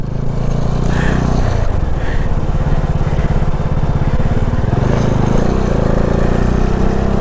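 A Bajaj Dominar motorcycle ridden off-road over small loose gravel, its engine droning loud and close throughout with rising and falling revs and a rough, gritty texture from the tyres on stones.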